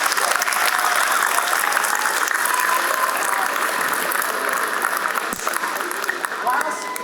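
At a police athletic league summer camp graduation, a crowd claps in a steady, full round of applause that carries evenly throughout at close range.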